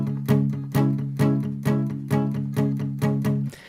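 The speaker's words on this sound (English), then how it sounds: "rest it lightly on the strings to get that palm muted sound" Palm-muted acoustic guitar strumming in a steady pattern of short, damped strokes, about two per second, close and clear with no talking.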